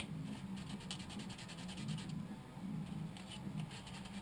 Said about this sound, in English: you want to sand down the backing a bit